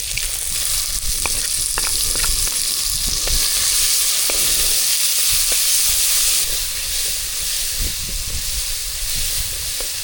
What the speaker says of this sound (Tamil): வெங்காயம் இந்த அளவுக்கு வதங்கினது போதும் இது கூட தக்காளி உப்பு இது ரெண்டையும் சேர்த்துக்கலாம்